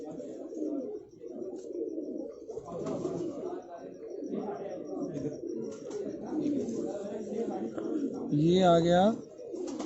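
Pigeons cooing near a loft in Rawalpindi at night, soft and continuous under steady chatter, with one louder close coo near the end as someone speaks.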